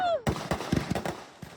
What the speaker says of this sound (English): That is what lights my fuses and starts my fireworks.